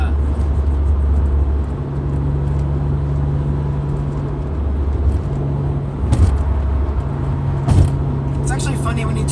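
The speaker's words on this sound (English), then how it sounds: "You hear the air just start sucking." Steady engine drone with a low hum and a rushing intake whoosh inside a car, rising briefly in places, with faint voices underneath.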